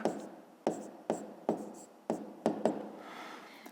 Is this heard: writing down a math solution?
yes